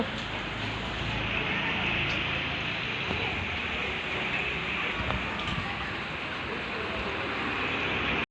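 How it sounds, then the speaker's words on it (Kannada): Steady, dense rainfall hisses continuously throughout, a broad wash of drops with no breaks, close and fairly loud. "ಇಲ್ಲಿ ನೋಡಿ ಎಷ್ಟು ಮಳೆ"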